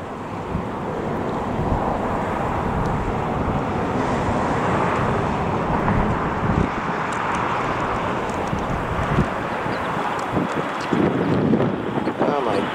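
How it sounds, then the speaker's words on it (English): Strong wind buffeting the microphone outdoors at LAX, a loud continuous roaring rush that fills the whole stretch, with a voice speaking briefly over it. "Too much wind."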